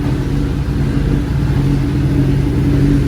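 Engine of a 2021 Kawasaki ZX10R motorcycle on a GP shift pattern, a steady loud running drone with a slight rise toward the end and no clear distinct blip, close and without voices.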